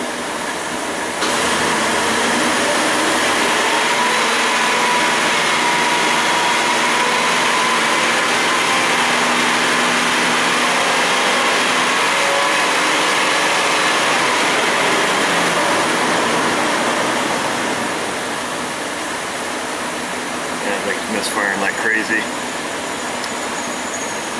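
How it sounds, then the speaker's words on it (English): A Dodge Ram 1500 with a misfire and a non-working upstream O2 sensor runs under throttle, a loud rough engine roar swelling and holding before easing back to a lumpy idle, with a person talking over it. "I'll give it some throttle, see if something changes here."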